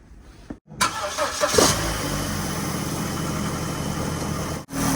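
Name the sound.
Vauxhall Corsa car engine starting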